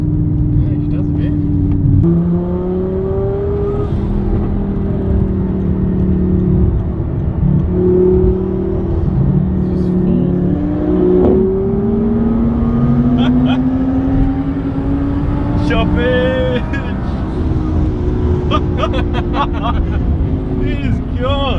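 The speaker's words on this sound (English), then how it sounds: "I didn't know your car makes burbles." A twin-turbo Audi R8 V10 and a Barra-engined Ford Falcon race, with a loud in-car engine drone that rises and falls through the gears, sharp crackling exhaust burbles toward the end, and people talking over it.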